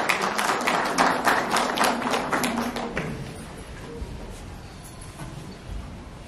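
An audience claps loudly in unison to welcome a speaker at a Farmers' Day gathering at a Brahma Kumaris ashram in Solan. The dense applause lasts about three seconds, then fades into quieter room noise.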